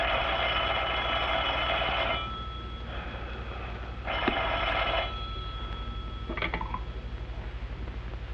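An old telephone rings in two long electric bursts separated by a pause, fairly faint over a steady low hum, with a short clatter afterward and no talking.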